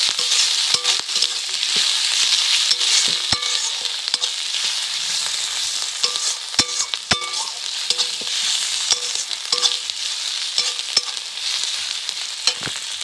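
Ginger-garlic spice paste for egg curry frying in a pan, a steady close sizzle punctuated by repeated scraping and clinking as it is stirred.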